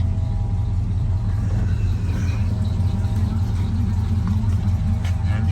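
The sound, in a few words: 1984 Chevrolet K20 truck engine running after start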